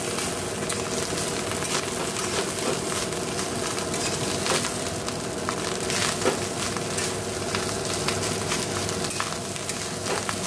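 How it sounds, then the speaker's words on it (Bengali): Rice with onion, chilli and egg sizzles and fries steadily in a wok, a dense continuous hiss with occasional scraping stirs, close and fairly loud, with no voices. "এখানে আমি পেঁয়াজ লঙ্কা ডিম দিয়ে ভাত ভাজছি"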